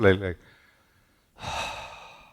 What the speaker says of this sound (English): Breathing through the mouth.